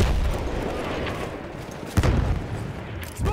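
Grenade blast in Battlefield 1 amid a forest battle, one sharp, loud boom standing out over a steady wash of distant gunfire and combat noise.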